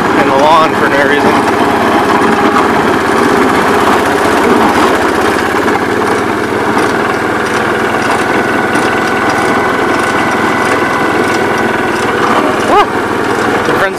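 Tractor plowing a gravel driveway with its blade in float, a steady close engine drone running throughout while someone talks over it.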